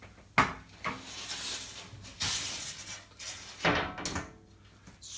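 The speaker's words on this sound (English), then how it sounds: "just by opening the coin door, removing the lockdown bar, closing the door so we don't scratch the glass" The coin door of a pinball machine is opened and closed, with a series of sharp metallic clacks and latch knocks, each followed by brief rattling, spaced irregularly and heard up close without talk.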